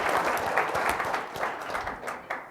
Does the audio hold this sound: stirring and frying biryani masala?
no